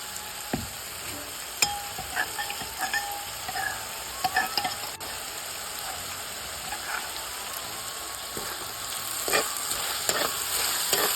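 Spicy vegetable curry being stirred as it fries in a pan with chilli powder, a steady sizzle with scraping spoon strokes and clinks throughout, fairly close and without talk.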